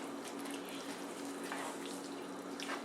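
Water poured into a cooking pan of ground beef and taco seasoning makes a steady, faint hiss and trickle that carries on evenly for a few seconds, with no voices.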